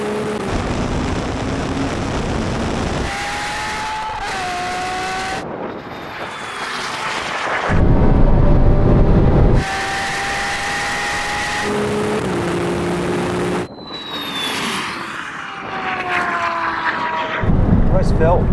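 Ferrari 296 GTB, SF90 and 812 Superfast launching in a drag race, several loud engine runs each rising in pitch through gear changes, separated by abrupt cuts, with people talking over them.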